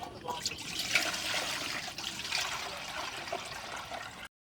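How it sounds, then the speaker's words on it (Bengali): Water pours steadily into a saucepan set on a lidded pot while making paneer from jackfruit-seed milk, a continuous close splashing trickle lasting several seconds before cutting off. "এখন এই সসপ্যানের ভিতরে জল ঢেলে দেবো"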